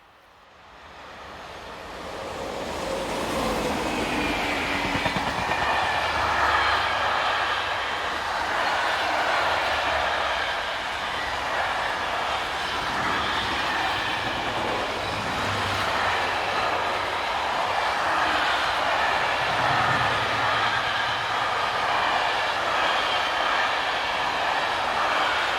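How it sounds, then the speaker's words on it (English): A southbound container freight train rolls past on a European line, a loud sustained rumble and clatter of wagons that swells within the first few seconds and holds steady, close by, with no voices. "As the train disappears from view"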